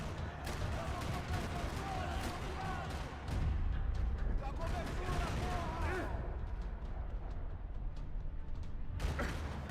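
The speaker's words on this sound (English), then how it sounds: "Another parking lot rattling with gunfire." Scattered gunshots crackle through a noisy Max Payne 3 parking-lot shootout, sharp bursts repeating irregularly over a low rumbling background, fairly quiet overall.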